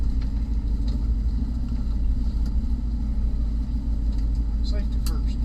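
An old Chevrolet pickup truck engine idles with a low, steady rumble close by, with faint voices and a few brief clicks over it.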